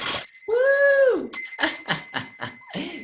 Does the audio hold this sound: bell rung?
yes